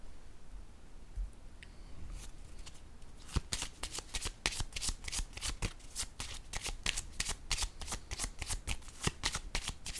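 Deck of cards being shuffled close up, a quiet lead-in followed by a long run of rapid, evenly spaced riffling flicks.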